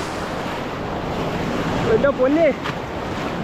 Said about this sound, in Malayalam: തിരമാല നല്ല രീതിക്ക് തിരമാലയും കൂടുന്നുണ്ട്, വെള്ളവും കൂടുന്നുണ്ട്